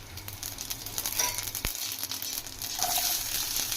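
Mustard seeds and cumin fry in hot oil for crispy bendakaya fry, with a close, steady sizzle and light crackle throughout. One sharp pop lands near the middle, and no one speaks.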